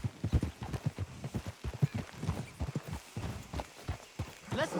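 Horses' hooves clip-clop at a walk on a dirt road in the Red Dead Redemption 2 video game, a steady, uneven string of close thuds and knocks, with a brief rustle near the end.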